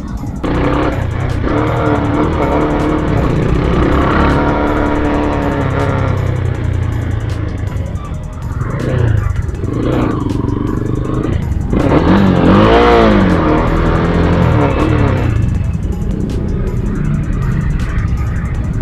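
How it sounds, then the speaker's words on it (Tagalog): A Z200X motorcycle engine rumbles and revs in traffic, with nearby vehicle engines and rising, falling revving tones over continuous road noise, close and loud. "Ay nako, traffic."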